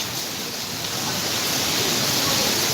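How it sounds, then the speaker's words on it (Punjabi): Heavy rain falls suddenly after hot Punjab weather, making a loud, steady hiss that is close and continuous, with no talking. "ਬਾਰਿਸ਼"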